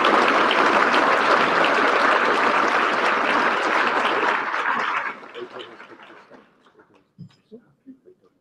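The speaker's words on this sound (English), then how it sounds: "Round of applause." Applause at a press awards dinner honoring a war photographer, a loud full burst of clapping for about five seconds that dies away into scattered claps, chuckles and murmuring voices.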